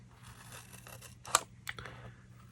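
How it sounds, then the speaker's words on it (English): Scissors cutting into paper along a score line, a faint rustle building to one crisp snip and a second smaller snip, close and quiet. "you're just going to cut in right on that score line, right up to that 1/2 inch line."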